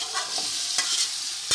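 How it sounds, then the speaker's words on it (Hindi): Beef frying in a pan with garlic-ginger paste, a steady close sizzle with a few scraping stirs of a spoon, no voices. "ये लहसुन अदरक हमने डाल दिया इसमें, लहसुन अदरक का पेस्ट वो भी तकरीबन भुन गया।"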